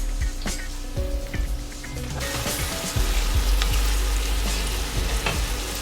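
Tomatoes and spinach fry in a pan, giving a steady close sizzle with scattered crackles and pops that swell louder partway through, with no talking.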